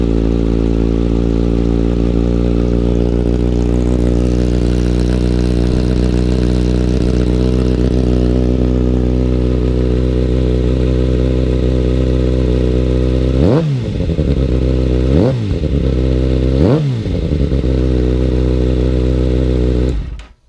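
A 2016 Kawasaki ZX-6R 636 motorcycle with a slip-on exhaust idles loudly and steadily up close, then three quick throttle blips rev the engine and drop back to idle.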